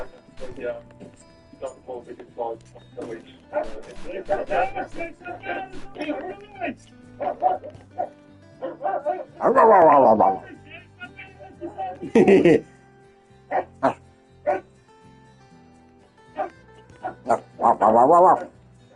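German Shepherd police tracking dog barking in several loud, close bursts with yips and whimpers in a yard, interspersed with people talking throughout.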